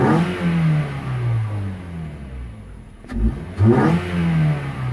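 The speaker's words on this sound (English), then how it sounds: "give you a little sound on how the intake sounds from inside." Inside a 2013 Toyota Corolla S, the engine revs up with a deep rising intake roar, eases off briefly with a click, then revs again loudly.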